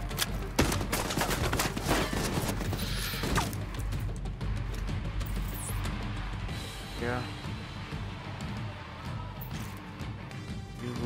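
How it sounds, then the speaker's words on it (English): Rapid bursts of gunfire in the shooter game Tom Clancy's The Division 2, dense volleys and sharp cracks crowding the first seconds, then thinning under continued shooting, with a voice talking over the game audio. "What are you shooting at, bro?"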